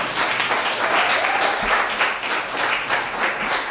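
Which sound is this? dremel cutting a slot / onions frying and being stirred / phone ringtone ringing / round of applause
round of applause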